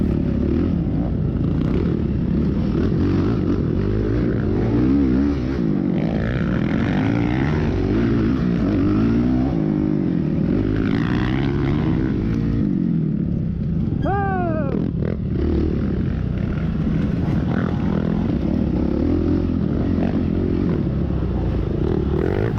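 Off-road dirt bikes racing in a GNCC event, a close engine buzzing and revving continuously with rising and falling pitch, other bikes audible nearby, loud throughout.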